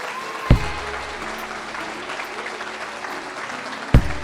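A church congregation at an intercession and prayer seminar gives Jesus a sustained round of applause, with a loud thump near the start and another near the end.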